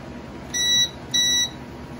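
A Creality LD-002R resin printer gives two short, clear electronic beeps, each about a third of a second long with a brief pause between, loud and close in a quiet room.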